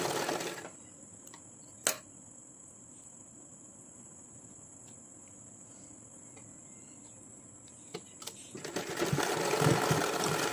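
Near the start and again at the end, a sewing machine runs as it stitches cords onto a blouse, with a steady mechanical whir; the middle stretch is quieter, with only a faint high hum and a few clicks.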